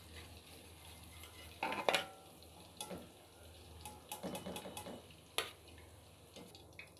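Okra (bhindi) frying in ghee for a chicken bhindi dish gives a faint, soft sizzle, with a few clinks and stirring scrapes of a spoon against the pan scattered through.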